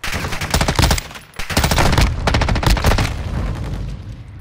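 Rapid bursts of pistol fire in Call of Duty from a gun fitted with a 50-round magazine, loud and close, with long strings of shots broken by a brief pause before firing resumes.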